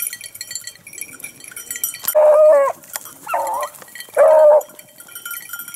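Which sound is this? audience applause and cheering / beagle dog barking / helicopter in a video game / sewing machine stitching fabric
beagle dog barking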